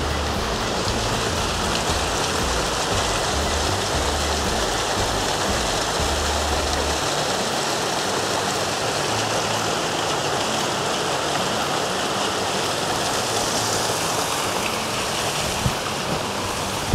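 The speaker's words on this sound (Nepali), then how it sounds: "झरना चाहिँ झर्दै" A waterfall in the forest near Lukla village in Nepal pours with a steady, dense rushing roar, constant and fairly close, with no other sounds standing out.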